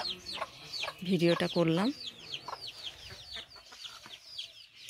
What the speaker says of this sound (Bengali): মুরগি আর মুরগির বাচ্চা